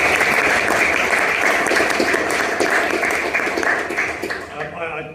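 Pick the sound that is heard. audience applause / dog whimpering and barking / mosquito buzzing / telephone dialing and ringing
audience applause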